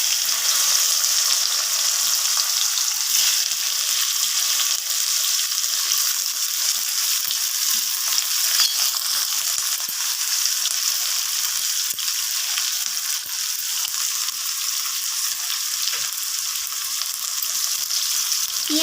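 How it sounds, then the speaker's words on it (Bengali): Chopped onions fry steadily in hot oil with dried chili, cardamom, cinnamon and cloves for a chicken curry, a dense continuous sizzle with occasional soft stirring scrapes, close and even throughout. "পেঁয়াজগুলোকে আমি একটু নাড়াচাড়া করে ভেজে নেব তেলের মধ্যে কালারটা চেঞ্জ হওয়া পর্যন্ত।"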